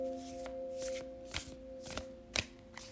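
Tarot cards being shuffled by hand: a series of soft riffling, papery bursts at an irregular pace with a few sharper snaps, close and fairly quiet over a steady low electrical hum, with no talking.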